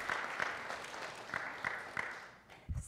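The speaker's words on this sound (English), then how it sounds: "Give yourselves a round of applause." An audience at a Sunday morning church worship service applauds for about three seconds, a steady wash of clapping with scattered sharper claps, then it fades out at the end.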